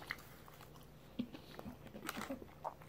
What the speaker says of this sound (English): Crunchy chips.